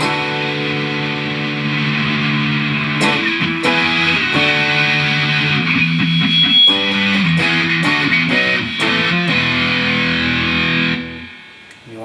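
An electric guitar played through AmpliTube 2.6 distortion rings out loud and sustained, with chords and plucked notes fuzzed and layered with effects before being cut off abruptly near the end.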